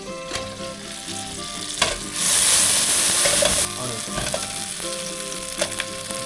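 Dried New Mexico and ancho chilies roasting in a pan, a continuous close sizzle that swells louder for a couple of seconds mid-way, with faint scraping and ticking touches throughout.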